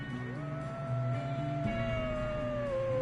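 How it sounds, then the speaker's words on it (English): Wolves howl in the Red Dead Redemption 2 video game, a long, rising and gently falling tonal cry that holds steady for several seconds over a layered game soundscape with low rumbling tones beneath. "Wolves."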